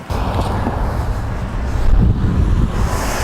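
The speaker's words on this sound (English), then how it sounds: "it is windy as heck here" Strong wind buffets the microphone outdoors by a park, a loud continuous rumbling roar with gusty swells and no clear speech.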